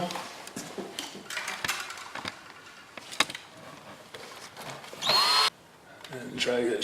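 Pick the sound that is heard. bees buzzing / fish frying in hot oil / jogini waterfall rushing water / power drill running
power drill running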